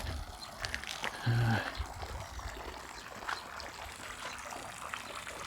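Water trickles softly at the source of the Neckar river, a faint, steady babble in a quiet outdoor spot, with a person talking over it.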